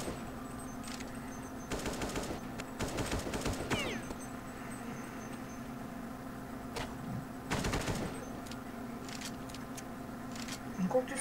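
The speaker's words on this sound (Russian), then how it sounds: "Кого тут убивают с АК-47?" Automatic gunfire in Counter-Strike 1.6 zombie mod, several rapid bursts of machine-gun rattle over a steady game hum, with a voice talking at times.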